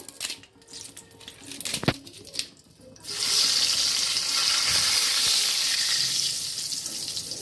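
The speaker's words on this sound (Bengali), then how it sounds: "প্রথমে আমি তেজপাতাটা ফোড়ন দিয়ে নিলাম।" A bay leaf dropped into hot oil for tempering, a few faint clinks at first, then a sudden loud hissing sizzle that swells and holds steady.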